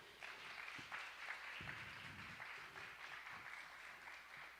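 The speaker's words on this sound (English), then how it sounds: "Round of applause for Mitch." A room of guests at a holiday party in Hawaiʻi giving a round of applause for Mitch, continuous mid-level clapping with a few louder individual claps and faint voices mixed in.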